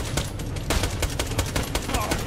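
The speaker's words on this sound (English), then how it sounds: "Hey, stop shooting me, damn it!" Rapid, sustained enemy gunfire in Borderlands The Pre-Sequel, a dense rattling burst of repeated shots, loud and close throughout.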